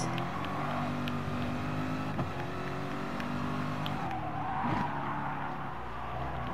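Porsche and Aston Martin race cars battling in Gran Turismo Sport, engines roaring close with tire squeal and skidding through a corner, steady loud drone throughout.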